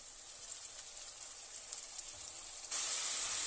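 Ginger garlic paste sautéing in a pan for South Indian mutton kuzhambu, a steady close sizzle and hiss that grows louder and brighter toward the end.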